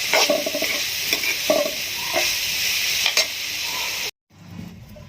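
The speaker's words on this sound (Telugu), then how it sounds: "ఉల్లిని బాగా వేగనివ్వాలి." Onions fry in a pan with a loud, steady sizzle and several scraping stirs, and the sound cuts out abruptly before a fainter sizzle returns.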